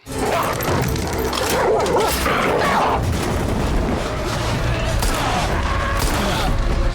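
Dogs barking amid a dense, loud, continuous mix of booming action sounds and speech in a tense TV-drama scene, the barks blended into the clutter rather than standing alone.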